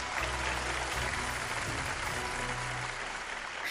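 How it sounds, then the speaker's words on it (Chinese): A studio audience at a televised archaeology lecture breaks into steady, dense applause that fills the room for several seconds and holds an even level throughout, with no voices rising above it. "来，掌声送给马老师"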